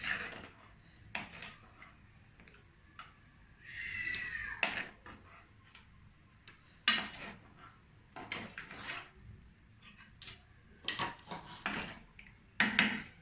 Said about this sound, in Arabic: خصنا دابا نحركو باش نزيدو، كنبقاو نزيدو داك الحليب بشوي بشوي على الخليط وكنوقفوش التحريك